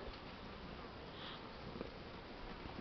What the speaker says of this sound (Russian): И пчелы потихоньку с обножкой прилетают